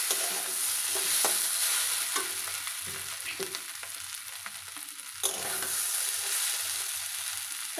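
Fried potato with garam masala being stirred in a pan, giving a continuous bright sizzle with scattered scraping knocks from the spoon throughout.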